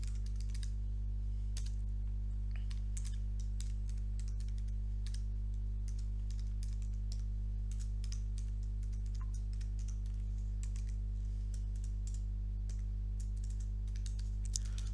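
Code being typed on a computer keyboard: quiet, irregular bursts of key clicks over a steady low electrical hum, close and faint, with no voices throughout.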